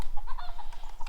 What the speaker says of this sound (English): this is our little blind cockerel